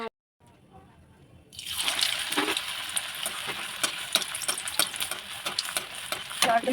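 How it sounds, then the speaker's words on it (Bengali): Chicken satay hits hot white oil in a wok and breaks into a loud, steady sizzle after a short quiet start, with scattered pops and crackles from the frying pieces. "চলো একা করে চিকেন স্যাটেগুলোকে লাল লাল করে ভাজা যাক"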